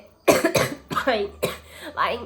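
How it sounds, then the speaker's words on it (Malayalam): A person coughs several times in quick, harsh bursts, the fits coming close together and fairly loud. "ഭയങ്കര ചുമയാണ്"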